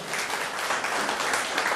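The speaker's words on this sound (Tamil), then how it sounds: "எல்லாரும் கரங்கள் கைத்தட்டி அவரை பாராட்டணும்" An audience claps together for a teacher, steady dense applause filling the room at an even level throughout.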